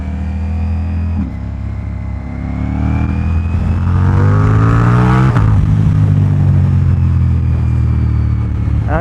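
A deep, loud Ducati Diavel V4 motorcycle engine with a Termignoni dragster exhaust rumbles and revs up close, its throaty exhaust note climbing in pitch before settling back down.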